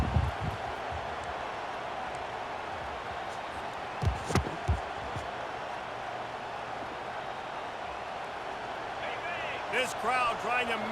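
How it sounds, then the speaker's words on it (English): Stadium crowd in a football video game roars in a steady, dense wash from start to finish, with a few low thuds near the middle and a faint rise toward the end. "This crowd trying to make life miserable for this offense."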